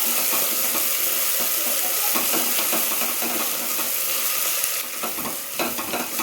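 Tomato rice bath base frying in a pan, a steady close sizzle with spitting crackle and occasional stirring scrapes, no talking.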